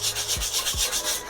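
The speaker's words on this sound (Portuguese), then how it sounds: "Ó, vou lixando aqui" Sandpaper rubbing back and forth over a textured relief surface, a close, rhythmic scratchy rasp in about six quick strokes with no voices.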